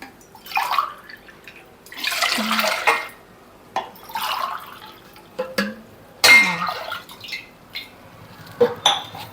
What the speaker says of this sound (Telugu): ఇక్కడ మనం 4 గ్లాసుల వాటర్ వేసుకోవాలండి.